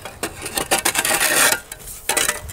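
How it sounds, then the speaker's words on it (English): Hot coals being raked back into an outdoor fire pit after Dutch oven cooking, a loud scraping, rasping rake with uneven strokes and short pauses between pulls, close by and with no talk. "I'm just gonna rake my coals back into my fire pit."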